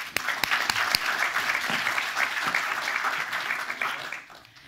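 Summit audience giving a warm round of applause as a speaker is welcomed, dense steady clapping from a large crowd filling the room, tapering off at the end.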